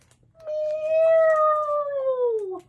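A single drawn-out cat meow in a children's cartoon story, clear and close, rising slightly then sliding down in pitch as it fades.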